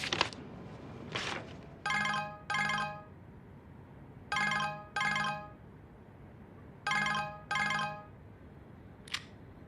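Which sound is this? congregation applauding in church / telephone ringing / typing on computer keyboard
telephone ringing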